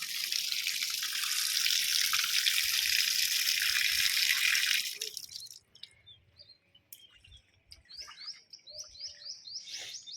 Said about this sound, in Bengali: কলের থেকে জলটা পড়ে ছাদটাও ধোয়া হয়ে যাবে।